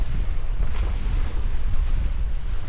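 Surf washes onto a clear-water resort beach in a steady, continuous roar, mixed with gusty wind buffeting the microphone, and no voices.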